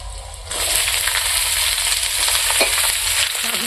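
Steady crackling sizzle of garlic and chili frying in oil, starting softer then louder after a moment, with a faint clink near the end.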